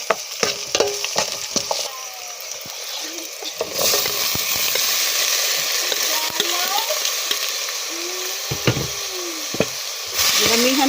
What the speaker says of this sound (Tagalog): matapos kong nagisa yung bawang